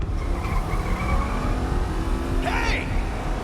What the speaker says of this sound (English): Ram the fucking barricade, dude, there's no fucking option.